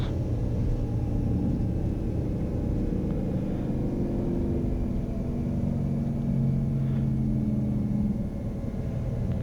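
A Cirrus airplane rolls out and brakes after a short-field landing on a mountain runway at Steamboat, filling the cabin with a loud, steady low rumble that holds unbroken for the whole stretch, with no talk.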